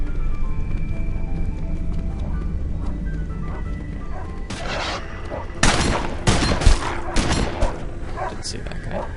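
Video game gunfire in a first-person shooter: a loud burst of several rapid shots followed by scattered single reports, over steady background game noise and talk.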